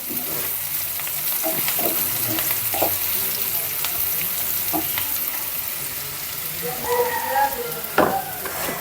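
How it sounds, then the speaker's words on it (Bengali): Fish sizzles loudly and steadily in a hot pan, with occasional clinks of a utensil and a faint voice briefly in the background. "এদিকে লাল লাল করে মাছগুলো ভেজে নিচ্ছি"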